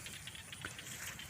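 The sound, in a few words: rain falling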